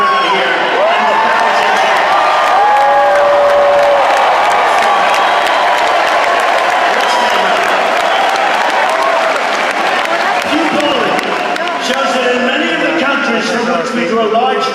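A packed arena crowd at a Trump rally at Germain Arena in Estero, Florida applauds and cheers loudly and steadily throughout, a dense, continuous roar of clapping with scattered whoops and shouts.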